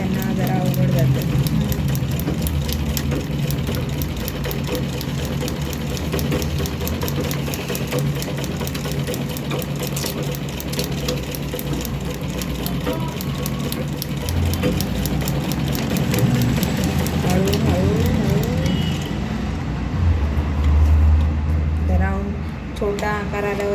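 A sewing machine stitches steadily during a beginner's sewing practice, its rapid mechanical whirr and needle clatter running continuously and close, with someone speaking over it throughout.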